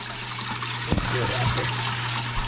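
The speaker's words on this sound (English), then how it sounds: "Let's get some more water added in here." Water poured into a fish tank at a homestead catfish pond stocked with bass shiners, goldfish and koi, a steady splashing trickle with a steady low hum running beneath it.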